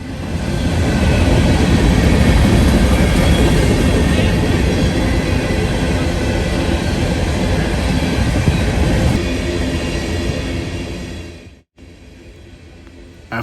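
A train rolls past on long straight mainline track in northwest Ohio west of Toledo, a loud close continuous roar of railcars and wheels that fades toward the end.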